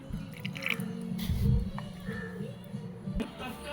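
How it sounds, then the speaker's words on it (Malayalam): Water trickles and drips into a batter in a grinder jar while it is prepared for grinding, faint wet splashes and squishy drops close by, with a soft low hum underneath. "ഇനി ഇത് നന്നായി അരഞ്ഞ് കിട്ടാൻ വേണ്ട വെള്ളം ഒഴിച്ചു കൊടുക്കുന്നുണ്ട്"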